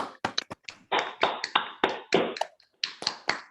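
Applause from Rotary Club friends and members gathered on a Zoom call, a burst of sharp, uneven claps and taps close to the microphone, coming in clustered bursts with short pauses between.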